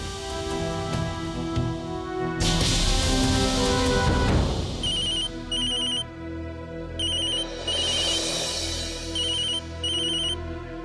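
A telephone rings with a bright, repeating electronic ringtone in short bursts over background music and a sudden loud crash, in a Hindi TV drama.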